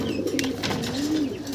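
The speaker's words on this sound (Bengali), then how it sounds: "এখানে আমরা দেখতেছি 3 পিস কবুতর ভাই" Pigeons in a pigeon house giving soft, low, rolling coos, with one bird's warbling call rising and falling a few times close by against a faint background rustle.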